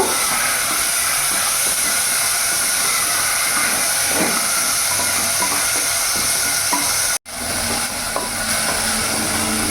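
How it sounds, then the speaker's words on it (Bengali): Chicken pieces fry in a pan for a ghugni recipe, a loud continuous sizzle and hiss with scraping stirring sounds, briefly cut off near the end before resuming. "ভালো করে নাড়াচাড়া করে আমি চিকেনগুলো ভেজে নেব।"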